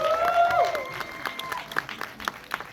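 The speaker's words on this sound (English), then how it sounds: "let's give a round of applause once again for this amazing cast" A theatre audience claps for the cast of a film Q&A, a loose patter of applause beneath a ringing tonal sound and faint voices, fading into scattered claps.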